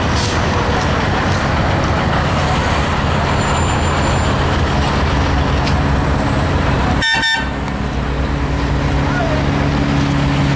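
Traffic queued at a highway toll plaza in Juquitiba: a steady, dense rumble of idling cars, buses and trucks fills the scene, with one short horn toot cutting through about two-thirds of the way in.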